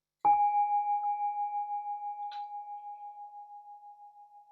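A meditation bell is struck once and rings out with a clear, pure tone that slowly fades over several seconds, alone in a quiet room.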